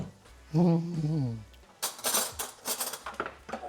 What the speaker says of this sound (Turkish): Tabii ki yeni kaşık çıkardım.